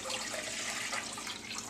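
Water pours from a coffee maker's carafe into a pan in a steady, close, gentle splashing stream that lasts under two seconds.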